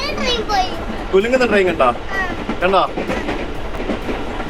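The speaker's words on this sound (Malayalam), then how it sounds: "ആ ട്രെയിൻ എന്ന് പറയുമ്പോൾ ആ ശബ്ദമൊക്കെ വേണം" A Jakarta local train rattles along its tracks in a low, rhythmic clatter under near, lively chatter from an adult and a small child.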